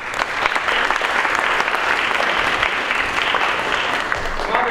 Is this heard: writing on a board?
no